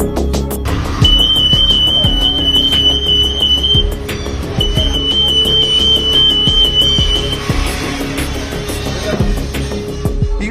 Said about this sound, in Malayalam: അലാറം മുഴങ്ങും.